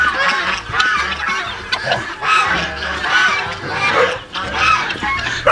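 Chickens on a farm make a busy, continuous run of clucks and honking fowl calls, close and fairly loud, with no one talking.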